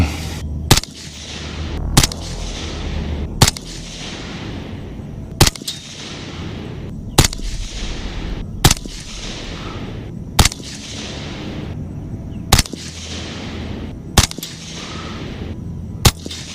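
A precision gas-operated rifle fires 77 grain rounds outdoors, ten loud sharp shots spaced about one to two seconds apart, each cracking sharply and then echoing briefly.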